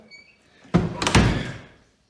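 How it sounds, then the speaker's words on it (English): Door at a lodge utility room being pushed shut with one solid thud and a brief rattle just after it, close and moderately loud, then quiet. "Shut the door."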